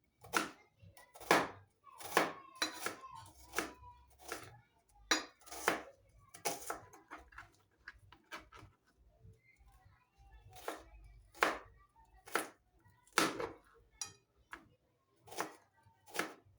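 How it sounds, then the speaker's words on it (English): Onions chopped with a knife on a cutting board for a healthy home recipe, sharp close knocks in quick bursts with short pauses between runs. "next I'm going to chop my onions"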